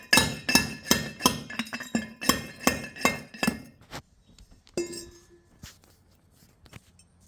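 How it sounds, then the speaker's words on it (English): Gold-bearing rock crushed in a metal dolly pot: close, loud, ringing metallic pounding strikes in a steady rhythm of about eight blows, then a few scattered clinks and scrapes fading to quiet. "So let's put him in the dolly and let's start crushing."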